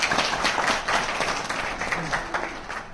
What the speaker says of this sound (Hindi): एक बार पुनः मैम के लिए तालियों से अभिनंदन